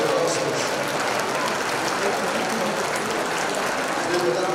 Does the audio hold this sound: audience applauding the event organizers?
yes